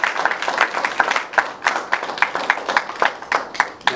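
Crowd applause at a women's entrepreneurship forum in Kinshasa, a lively burst of many clapping hands with distinct sharp claps standing out, loud and sustained throughout.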